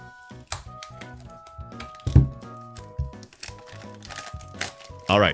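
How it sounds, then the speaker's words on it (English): Plastic shrink wrap is peeled off a sealed 2010 iPhone 4 box, giving close crinkling and crackling bursts with some tapping, and a person speaks partway through. "Alright, plastic's off."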